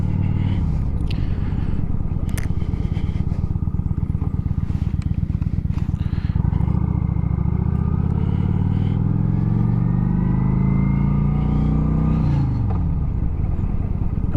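A Kawasaki Vulcan 900 Classic motorcycle on a short ride, heard loud and close from the rider's helmet, its engine droning and shifting pitch as it accelerates and then eases off, with wind rushing throughout.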